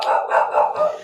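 Pet dogs being coaxed with cookies let out a short burst of several quick, loud barks up close.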